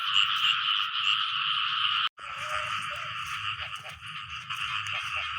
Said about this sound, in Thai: เสียงกบห้องนี่